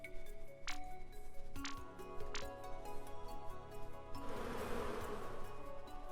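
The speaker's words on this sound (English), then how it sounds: "A swarm of bees!" A swarm of bees buzzes in the dungeon-crawler game Dungeonmans, a faint steady insect drone under quiet game tones and a few bright chimes, swelling into a denser burst near the end.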